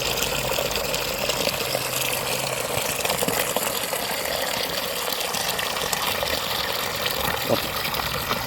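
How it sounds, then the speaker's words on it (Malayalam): Fresh water pours and gushes steadily into a chilli-plant fertilizer slurry being diluted, a constant close splashing stream with no pauses. "ബാക്കി ഇതിൽ പച്ചവെള്ളം മിക്സ് ചെയ്യണം"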